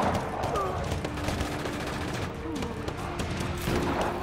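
Gunfire from the video game Just Cause 3, a dense fusillade of shots and booms under steady game noise, with a voice speaking over it.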